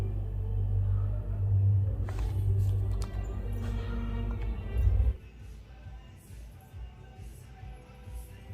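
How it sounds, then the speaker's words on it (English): The rumble motors of a PS5 DualSense controller buzz in a low, loud, steady hum for about five seconds, then cut out abruptly, leaving faint background noise. "All rumble features working. Rumble motors."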